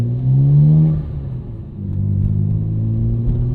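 A 1999 Nissan Skyline R34 GT-R with its twin-turbo engine revs up loud and close, a deep rumbling swell that dips briefly and then settles into a sustained, throbbing drone.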